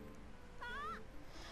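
A cat in Zelda Twilight Princess gives a single short, clear meow partway through, over a low steady background hum.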